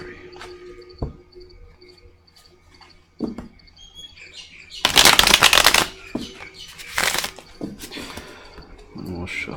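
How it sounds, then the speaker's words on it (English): A tarot deck is shuffled up close during a Gemini love reading. Two brisk, crackling bursts of card riffling come between quiet pauses, with a voice speaking softly nearby. "One more shuffle."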